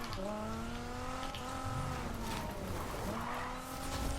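In Need For Speed Heat, a slippery car drifts with long, loud tire squeals layered over a steady engine roar, the screech bending and sliding in pitch throughout.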